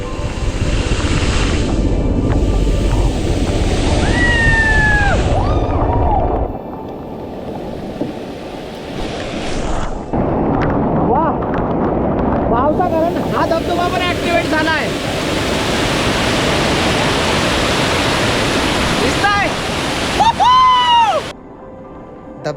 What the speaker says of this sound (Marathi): या जागेवर पण एक धबधबा पाहायला भेटते